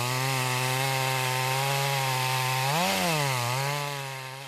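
A chainsaw cuts rain-wet trees during forest thinning work on a national forest, its loud, steady buzz sagging and recovering in pitch midway as the blade spins without biting into the wood.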